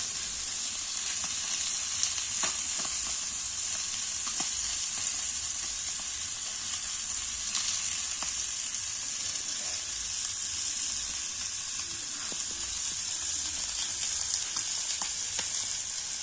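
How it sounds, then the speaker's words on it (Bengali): Small puti fish fry in a pan, giving a steady, dense sizzle of hot oil that runs on evenly without a break, with faint ticks of spitting fat scattered through and no voices. "মাছগুলো কিন্তু ভালো করে ভাজা লাগবে রে"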